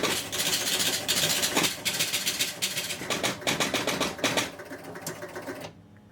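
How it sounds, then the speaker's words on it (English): A Spirit of 76 pinball machine powers on and resets with rapid mechanical clattering and dense ticking bursts of relays and score reels, loud and close, then stops abruptly near the end. "I'm going to turn the machine on."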